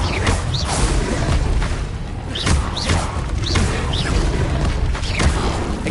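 A rapid burst of spell-casting effects in Hogwarts Legacy, among them the Incendio fire spell, with repeated whooshing bursts and booming impacts in a loud, dense, continuous stretch of combat.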